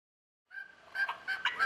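Turkeys gobbling after a moment of silence, a few rattling calls in quick succession, moderately close.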